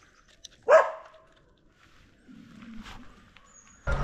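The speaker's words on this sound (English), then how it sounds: "Damn dogs." Dogs barking outdoors beside a road near a gas station in Serbia, a few sharp barks and yelps, loudest at the start and end, with a low growl in between.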